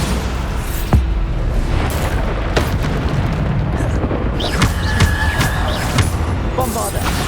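Bombarda spell explosions from Hogwarts Legacy gameplay on PS5 hit as repeated booming blasts and sharp pops over a dense, constant layer of combat and ambient game sound, with a spoken spell incantation mixed in.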